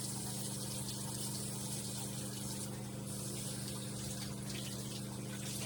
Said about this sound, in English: Continually rinsing it out as I go along to make sure that I'm getting all the cleanser.